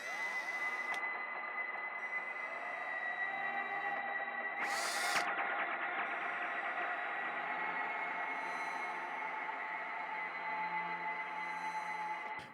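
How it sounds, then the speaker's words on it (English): A running drill held close to an electric guitar pickup produces a sustained, droning electronic hum and whine drenched in heavy reverb, forming a steady ambient pad with a brief burst of noise midway. "you just turn the drill on and bring it close to the pickup, it'll kind of make some cool ambient textures"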